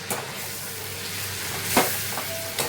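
Tomato paste hits a hot pan and fries with a steady, close sizzle and hiss that holds throughout, with a couple of brief scraping stirs on top.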